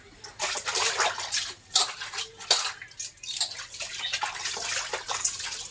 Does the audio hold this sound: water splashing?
yes